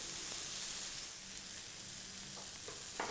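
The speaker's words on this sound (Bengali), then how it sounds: "ভেতরে যে পেঁয়াজ রসুনটা কাঁচা ছিল সেটা কিন্তু এখন ভাজা ভাজা হয়ে যাচ্ছে" Onion, garlic and a dried-fish fritter wrapped in bottle gourd leaf fry in a pan with a dense, even hiss of oil, close and steady with a few faint clicks near the end, no voices.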